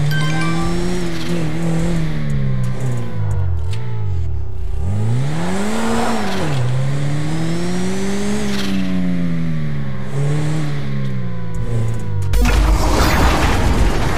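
Car engine revving hard with squealing tires in the GTA role-play driving game, a loud continuous roar whose pitch climbs and dips repeatedly before a harsh burst of noise near the end.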